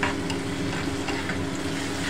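Onion frying in a pan with garlic and ginger paste for a small-fish curry, giving a dense, continuous sizzle with stirring close by and no voices.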